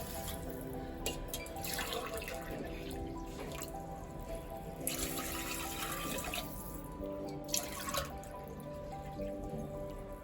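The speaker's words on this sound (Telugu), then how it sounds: "ఒక గ్లాస్ కి ఒకటిన్నర గ్లాస్ వాటర్ వేస్తున్నా అంటే త్రీ గ్లాసెస్ వాటర్ వేస్తున్నా" Water is poured over rice in a pot, a faint close trickle and splashing with a few louder gushes in bursts, quiet and with no one speaking.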